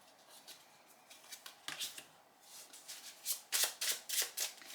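Tarot cards shuffled by hand in a quiet room, a run of crisp riffling bursts that grow louder and more rhythmic toward the end, with no voices.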